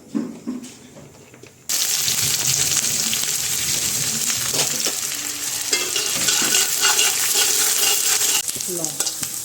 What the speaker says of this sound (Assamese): এতিয়া কেৰাহীখন পাতি থৈছোঁ ভাজিব লাগিব আৰু এতিয়া পিঁয়াজখিনি দিব লাগিব